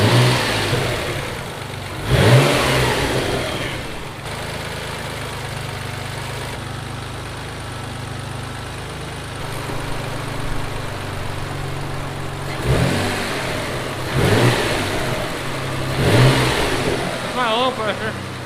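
A Mitsubishi 3000GT VR4 engine with its exhaust fitted idles steadily and is revved in several short blips, each swelling up loudly and falling back, heard close by while people talk over it.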